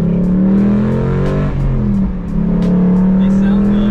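A Shelby GT350 Mustang engine rumbles and revs steadily up close, with a dip and swell in pitch partway through as it idles and builds.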